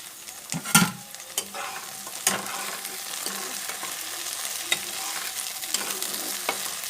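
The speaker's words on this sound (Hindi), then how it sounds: "अब हम इसमें टमाटर डाल के इसको फ्राई कर लेते हैं" Tomatoes frying with softened vegetables in a pan for wheat-flour pasta, with a low steady sizzle and sharp spatula clanks and scrapes scattered throughout.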